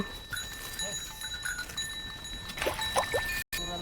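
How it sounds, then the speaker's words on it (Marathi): Farm cattle heading home from a field in the evening, with steady ringing bell tones throughout and a few short animal calls near the end, at moderate distance. "चला ढोरं पण चालले आता घरी"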